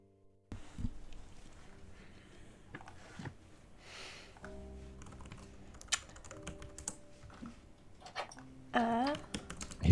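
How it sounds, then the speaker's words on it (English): Computer keyboard typing goes on for most of the stretch, a run of quick, uneven clicks at moderate loudness with a brief burst near the end, during a tabletop role-playing game session. "I hear typing."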